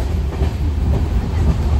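A passenger train on the Mumbai to Konkan route rumbles steadily from on board, a loud, low, continuous rolling noise with faint clickety-clack and no talk.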